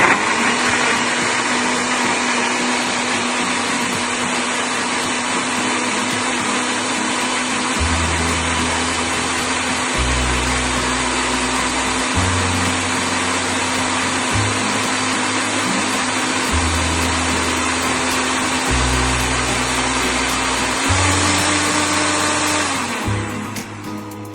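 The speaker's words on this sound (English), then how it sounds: "And we're gonna blend it, and that's it." A kitchen blender whirring loud and steady through a healthy chocolate ice pop mixture, its motor pitch stepping up and down in repeated pulses before winding off at the end, with no talk.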